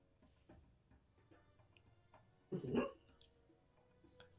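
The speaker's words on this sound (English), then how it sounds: "we're having puppy nightmares" A sleeping dog gives one short, muffled bark-like yip amid quiet soft ticks and faint room noise, fairly close but subdued.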